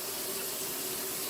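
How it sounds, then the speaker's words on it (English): Tap water runs steadily into a can being filled for cooking, a close and even gush that carries on without a break for the whole short stretch. "I'll tell you what, Piggy, if you will give me that can, about 3/4 full of water"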